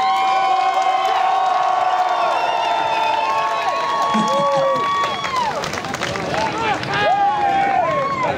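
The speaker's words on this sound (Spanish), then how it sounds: "¡Un aplauso, hombre!" A concert crowd at a beer festival in Fabrica di Roma cheers, shouts and applauds loudly, with sustained whooping voices rising and falling over clapping throughout.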